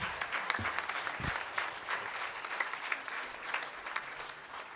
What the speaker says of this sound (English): Let us give a big round of applause to them